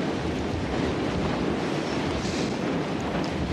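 A strong wind roars steadily in an outdoor Western setting, a loud, continuous broadband rush with heavy buffeting and no pauses. No voices are heard.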